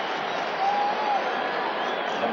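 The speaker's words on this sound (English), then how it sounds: "Well, now the crowd is back in it as well." Steady roar of a stadium crowd at a 1991 Giants at Cowboys NFL football game in Dallas, a broad continuous wash of cheering and applause with no breaks, moderately loud and diffuse.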